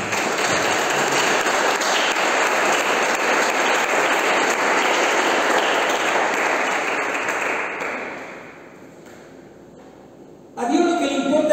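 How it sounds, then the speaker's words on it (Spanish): Strong, sustained applause from a church congregation fills the space, loud and dense for about eight seconds before thinning out, with a voice starting up as the clapping fades. "Denle un fuerte aplauso a que viene."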